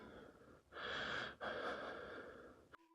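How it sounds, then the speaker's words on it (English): A man breathes heavily and audibly while straining to hold a door shut, two long rasping breaths swelling up close and loud, then cut off abruptly near the end. "You can hear the man's breath getting heavier"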